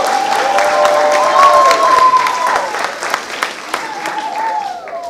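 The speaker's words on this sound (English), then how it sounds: "One more round of applause for him." Enthusiastic crowd applause and cheering for a performer at a poetry slam, loud and close at first with whoops and shouts over the clapping, then thinning into scattered claps as it fades.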